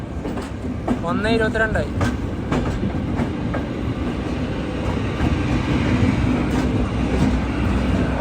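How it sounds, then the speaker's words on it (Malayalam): A passenger train running from Jaipur to Ajmer in India, with a steady rumble and rolling wheel noise throughout, occasional clicks and squeals from the track, and a person's brief speech near the start. "ജയ്പൂരിൽ നിന്ന് യാത്ര ചെയ്ത് ട്രെയിൻ ഇത് അജ്മീറിലേക്ക് തിരിക്കുകയാണ്."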